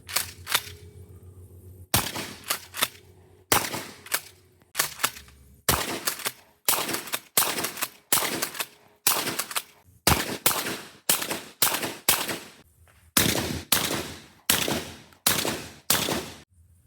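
Shotgun blasts suppressed with a SilencerCo Salvo 12 come as a long series of sharp, evenly spaced shots, about one every second or so, each decaying quickly, with short pauses between groups and no talking.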